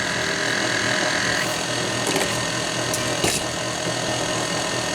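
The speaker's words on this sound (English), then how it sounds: "we put on the dough hook and we're gonna mix this" Stand mixer fitted with a dough hook kneading bread dough on low speed, a steady low mechanical hum and whir running throughout with a couple of faint knocks, close and continuous.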